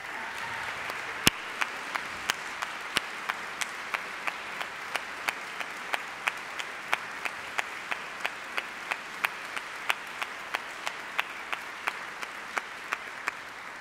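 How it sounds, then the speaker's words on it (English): Applause from an audience at a university honors convocation, with a steady wash of clapping and sharp individual claps standing out in a regular rhythm throughout, fairly distant and even in level. "Let's have one more round of applause for all our award winners."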